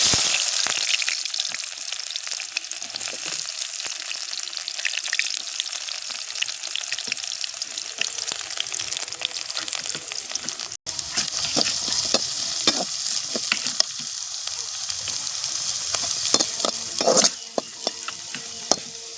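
Onions frying in hot oil in a pan for a dry stingray fish fry, a bright steady sizzle with bursts of spattering and spoon scrapes as they are stirred, close and fairly loud, no voices.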